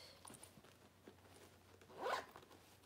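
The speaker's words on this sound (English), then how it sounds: "That is a zipper pocket." A zipper on a newer Coach purse pocket gives a single quick, faint zip pull near the end, preceded by soft handling rustles in a quiet room.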